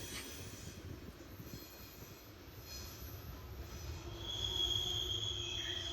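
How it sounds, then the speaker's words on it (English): A freight train of hopper cars rolls past steadily with a low rumble, and a thin, high metallic wheel squeal rises near the end. "just like that, another train has come and gone"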